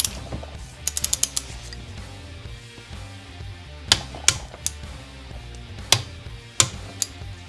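Ratcheting clicks from tightening the two screws on a motorcycle engine's balance-shaft assembly, with a quick burst of ticks near the start, then sharper single clicks spaced about a second apart over a low mechanical hum.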